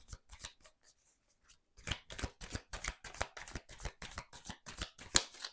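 Tarot cards being shuffled and cut, a quick run of crisp riffling snaps at first, then a brief pause, then a longer, denser stretch of rapid card flicks, close and alone with no talk.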